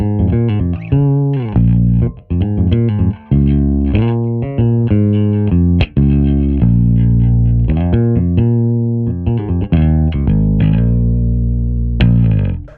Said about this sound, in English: It's the Rickenbacker 4003S.